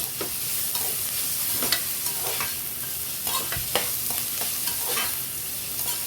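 Ingredients sautéed in a pan for tomato rice, giving a loud, continuous sizzle with frequent sharp scrapes and stirring strokes close by.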